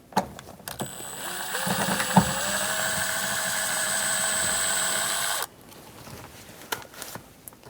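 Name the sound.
Phillips screwdriver removing sun visor screws in Chevrolet Express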